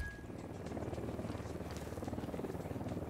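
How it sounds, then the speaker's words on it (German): A helicopter in the video game Ghost Recon Wildlands, its steady rotor chop pulsing rapidly at moderate distance, a low throbbing drone that continues throughout. "Ich höre nämlich einen Heli."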